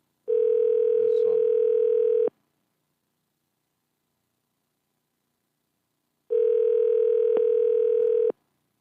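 Telephone ringing tone heard as two long steady buzzes of about two seconds each, separated by a few seconds of silence, clear and close with no talking.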